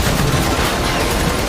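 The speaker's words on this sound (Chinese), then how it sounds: "短发姐等人已经将这里团团围住，并开始朝着老黑的房屋开枪扫射" Gunfire from an action film scene where a crew sprays a house with bullets, a short dense burst of continuous loud shots filling the moment with no pauses.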